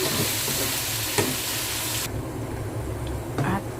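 Sponge gourd (patola) with tofu and spareribs sautés in a hot pan, a steady loud sizzle and hiss with occasional stirring scrapes, the frying noise dropping in intensity partway through, close up with no one speaking.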